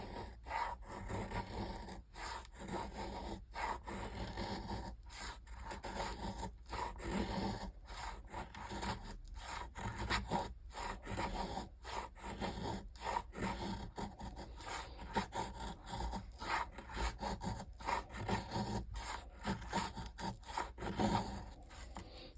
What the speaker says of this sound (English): Let's see if we can make some feather sticks.